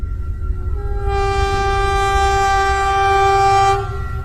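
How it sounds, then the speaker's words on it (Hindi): A train pulls away with a long, steady horn blast, a loud droning tone that rises in strength, holds for a few seconds and then cuts off over low rumbling. "और फिर ये ट्रेन स्टार्ट हो जाती है।"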